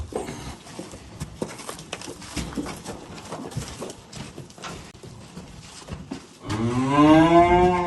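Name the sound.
cow mooing, Swiss and Alatau crossbreed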